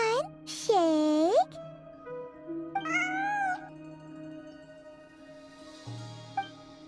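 A cat in the Genshin Impact video game meows twice in loud, rising-and-falling cries near the start, then gives a shorter mew around the middle, over a soft game music bed.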